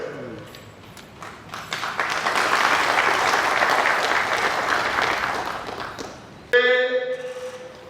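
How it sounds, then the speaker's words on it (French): Applause from an assembly gathered for a provincial parliamentary session opening, a steady wash of clapping that swells and holds, then gives way to a voice speaking over a louder burst near the end. "nous devons applaudir, nous devons applaudir."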